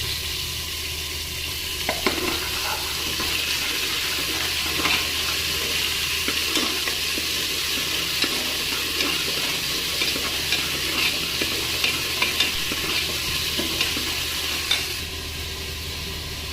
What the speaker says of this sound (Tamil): ஆயில் இருக்கும் போது இஞ்சி பூண்டு பேஸ்ட் போட்டுருங்க